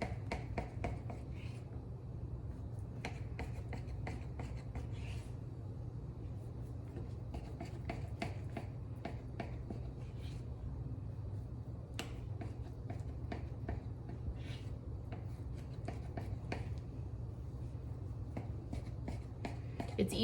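Knife slicing through rolled lemon curd sweet roll dough on a board, a series of soft, close scraping and tapping cuts repeated steadily over a low background hum, no talking.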